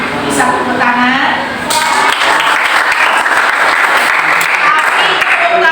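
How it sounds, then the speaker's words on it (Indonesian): Schoolchildren clap their hands at an enrollment outreach session in an Indonesian school, loud close clapping mixed with talking and children's voices throughout. "bisa tepuk tangan."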